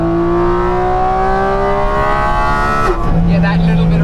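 A high-revving Porsche 911 GT3 or GT4 RS engine drones loudly and steadily on a track, climbing past 8,000 rpm, its pitch sliding slightly, then dropping abruptly as the revs shift near the end.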